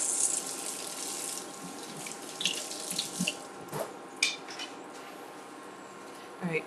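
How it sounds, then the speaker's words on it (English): A kitchen tap runs steadily as something is rinsed under it, with light clinks of dishes and utensils popping through the flowing water, close and moderately loud. "All right, let's rinse this off."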